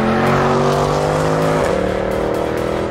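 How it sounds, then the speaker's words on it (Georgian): A Mercedes naturally aspirated V8 engine holds a loud, steady roar, then its pitch drops sharply midway as the revs fall, and it carries on, close and alone. "მაგალითად, Mercedes-ის ატმოსფერული ვირვა."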